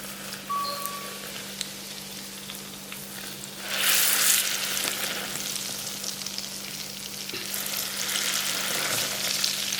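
Hot oil crackles and sizzles steadily while being poured over ingredients for a sweet jaggery-based Khandeshi raw mango pickle, the frying hiss swelling louder midway and staying dense to the end with no talking.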